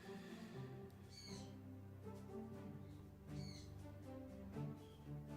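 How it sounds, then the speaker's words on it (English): Pet birds calling from another room, a series of muffled squawks and chirps recurring every second or so over a low background hum, faint and distant. "You might be able to hear my birds. They're rather awake at the moment. Making quite a bit of noise in the other room."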